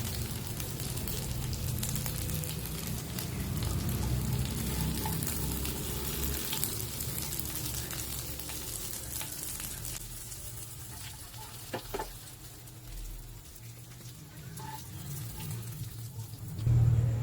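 Fish fries in a pan of hot oil with a steady, dense sizzle close by, the crackle thinning and spitting more sparsely toward the end, with occasional utensil clicks.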